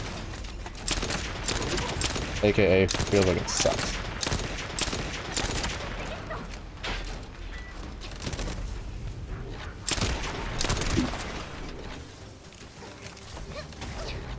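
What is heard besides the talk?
hand cannon gunfire in a video game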